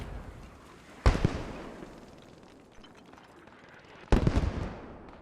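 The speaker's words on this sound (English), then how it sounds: "Shaw taking a little bit of a shock blast from the mortars there." Two mortar shell explosions in the WWII shooter Post Scriptum, each a sudden loud blast with a rumbling tail, spaced about three seconds apart against a quiet battlefield background.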